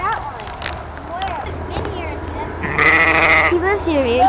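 A sheep bleats loudly nearby at a zoo toward the end, after a stretch of quieter background noise and faint voices.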